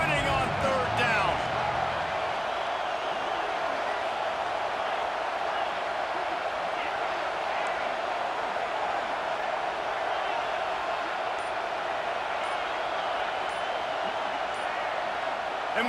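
Loud, continuous stadium crowd roar in an NCAA 26 college football video game on third down, a dense wall of noise that stays steady throughout with no pauses.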